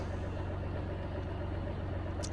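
A tractor engine runs in a farming game, a steady low mechanical drone with a pulsing idle throb, even and continuous throughout.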